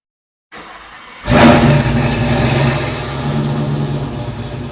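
A car engine cranking and catching after its fuel pump was primed, then settling into a loud, rough, steady run with a brief rising rev, recorded up close with no talk.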